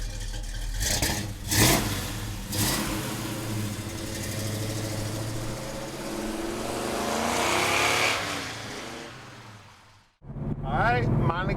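1970 Chevrolet Monte Carlo with a big-block engine and five-speed, its engine revving and idling loud and close, rising and falling for around ten seconds, with a person speaking over it near the end.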